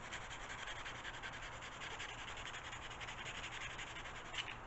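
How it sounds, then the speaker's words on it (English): Sandpaper worked by hand across the top of a model aircraft fuselage to rough it up for gluing, a steady close scratchy rubbing that continues without pause. "I'm going to take sandpaper and I'm going to rough up the top of my tailwind."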